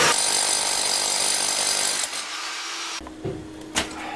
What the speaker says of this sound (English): You might wonder why I'm drilling weep holes up here as opposed to down there.